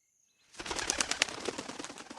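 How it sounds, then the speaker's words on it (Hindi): Two large owls take off from the top of a huge banyan tree and fly to a nearby branch, a loud, close burst of rapid wing flapping that rises suddenly from silence and continues with irregular beats. "ये आवाज करते हुए दो बड़े बड़े उल्लू हवा में परवास करते हुए सामने की डाल पर जा बैठे।"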